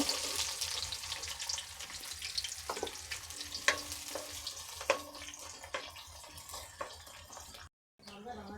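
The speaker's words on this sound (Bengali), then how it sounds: "একটু ফোটার পরে আমি এবার দিয়ে দেবো পেঁয়াজ। এরকম ধরনের 1 বাটি পেঁয়াজ আমি দিয়ে দিচ্ছি।" Onions frying in hot oil for a homemade chicken curry, a continuous soft crackling sizzle with scattered sharper pops and scraping taps of a utensil, fairly quiet and close, briefly cutting out near the end.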